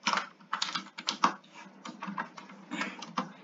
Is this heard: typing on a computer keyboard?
yes